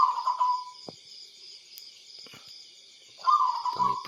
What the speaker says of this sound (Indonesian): Perkutut juara bunyi di malam hari ya.